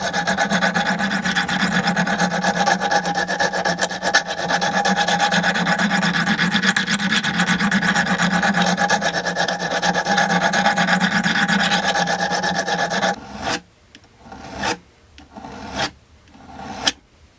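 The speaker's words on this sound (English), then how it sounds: "I'm going to just use a standard file just because that's what everybody has" A standard hand file rasps steadily across a metal tip in continuous, even strokes for about thirteen seconds, then a few shorter separate strokes follow, loud and close.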